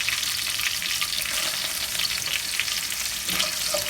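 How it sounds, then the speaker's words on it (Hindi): Green chillies and coriander frying in hot oil for a masoor dal tadka, a steady close sizzle running unbroken throughout with faint stirring. "इसको हम हल्का सा फ्राई करेंगे"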